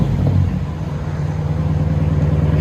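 A 2013 Chrysler 300 S with a 5.7L HEMI V8, true dual exhaust and straight pipes, gives a loud, close, steady low rumble that swells slightly at the start and holds throughout.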